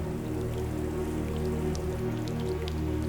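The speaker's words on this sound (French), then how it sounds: "la pluie finit enfin par revenir mi-juillet" Steady rain falls in mid-July over London by the Thames, a dense continuous patter with scattered drips, even and moderately loud throughout with no voices.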